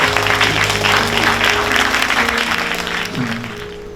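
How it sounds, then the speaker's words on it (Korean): A church congregation at a Korean missionary dispatch service claps loudly and continuously, with sustained low musical tones holding beneath the applause before it begins to taper off. "우리 하나님 감사의 박수 한번 드리겠습니다."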